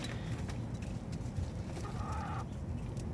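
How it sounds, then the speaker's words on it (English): Chickens cluck and a rooster calls in a backyard run at morning as the birds are let out, a busy mix of near clucking over steady ambient noise, with one brief higher call partway through. "and there's the rooster."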